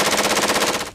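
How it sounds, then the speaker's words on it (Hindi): A rapid burst of automatic gunfire, about a dozen tightly spaced shots in one second, loud and sharp before cutting off abruptly. "गोलियों का ऐसा शोर कि सुनने वालों की रूह कांप उठे।"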